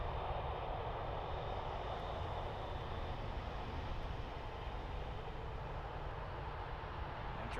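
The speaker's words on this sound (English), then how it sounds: "737-800. Wearing the ever plain New American livery." An American Airlines Boeing 737-800 in the new livery roars steadily at an airport, a loud, unbroken engine rush with no talking.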